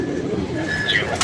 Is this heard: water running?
no